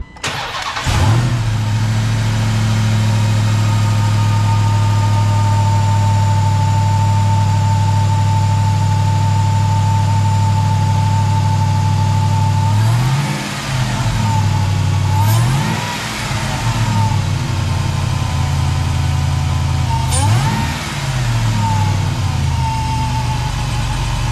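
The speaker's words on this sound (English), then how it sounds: "you do get a little bit of an induction noise" A loud supercharged 6.2L Hellcat V8 in a Ram TRX with an aftermarket intake runs steadily close up, with a whining intake note and a few rising revs that swell and fall back to idle.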